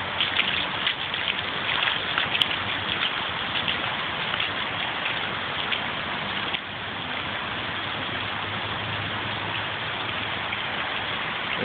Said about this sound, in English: It's an absolute river flowing through our yards.